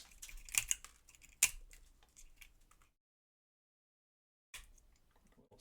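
Hobby cutters snip plastic model railroad caboose parts off the sprue, giving several crisp close clicks and snaps, then a brief silence before more faint handling noise.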